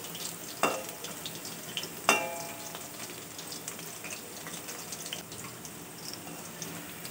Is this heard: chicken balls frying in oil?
yes